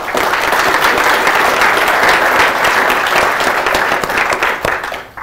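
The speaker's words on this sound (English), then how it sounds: "So a big round of applause for our sponsors." Workshop attendees giving their sponsors a big round of applause at an opening session on analysis-ready data; loud, sustained clapping from a roomful of people that tapers off near the end.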